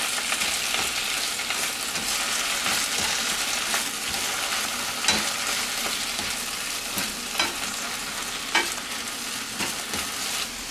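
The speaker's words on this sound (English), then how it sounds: "So we just put the spinach in a hot pan with a little bit of oil" Spinach fries in a hot pan with a little oil, giving a steady, bright sizzle with occasional light clicks of stirring throughout.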